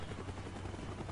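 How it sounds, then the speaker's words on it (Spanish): A helicopter in the Call of Duty Black Ops video game gives a brief, faint, steady rotor drone with a low chopping pulse and no voices. "el sonido del helicóptero que no me deja oír bien los"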